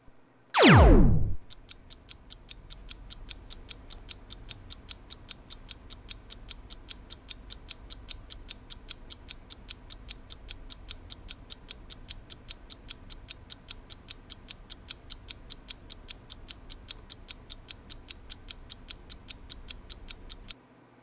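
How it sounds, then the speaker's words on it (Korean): Steady, evenly spaced mechanical ticks from a 10-second countdown timer run for about twenty seconds, each click crisp and moderately loud over a quiet background with no talking, after a brief opening sweep. "째깍 소리가 되게 듣기 싫은 소리여."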